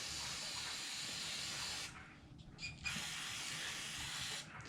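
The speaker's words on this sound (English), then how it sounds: "I'm going to go ahead and start cleaning this up with carb spray" A steady, loud spray of carburetor cleaner hisses close by as a generator is cleaned, stopping briefly twice with a faint clink in the pause, then resuming.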